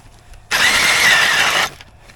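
A battery-powered ice auger bores through lake ice in a single loud, steady, high-pitched whirring burst of about a second, starting and stopping abruptly.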